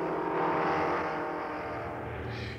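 Prop engine of a Cessna scout plane flying over Vietnam in wartime, a steady droning hum that holds level throughout with a slight rise in pitch near the end.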